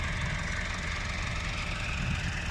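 A 2021 New Holland Dabung 85 tractor engine runs steadily while powering a straw chopper in a field, a loud, constant low drone with a rough throbbing undertone and no talk.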